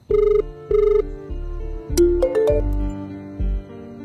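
A telephone rings in bursts in a film scene, two clear double rings followed by further ringing tones, loud and close, with no talk over it.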